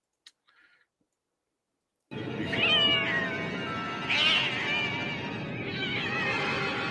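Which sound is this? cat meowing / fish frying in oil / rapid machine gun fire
cat meowing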